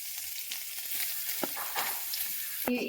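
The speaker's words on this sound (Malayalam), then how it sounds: "അപ്പൊ കുറച്ച് തേങ്ങ വറുത്തെടുക്കാം കുറച്ച് ജീരകം ചേർത്ത് കൊടുക്കാം" Grated coconut roasting with cumin seeds in a pan gives a steady, close dry sizzle, with a few soft scraping stir sounds and a brief clatter near the end.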